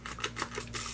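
A disinfectant spray bottle trigger fires several quick, soft hissing spritzes in a loose rhythm, close but faint, with a low steady hum underneath.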